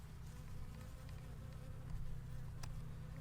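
A close, steady drone of many buzzing Carniolan and Russian-mix honey bees during a hive inspection, faint and continuous, with an occasional individual bee passing near.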